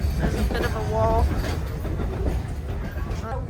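Durango train running on rails toward Cascade Canyon, a continuous low rumble with rhythmic clatter heard from inside a car, with indistinct voices underneath.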